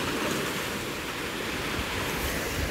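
Sea waves rush in on the shore, a loud, dense and continuous roar of surf close to the microphone with wind noise.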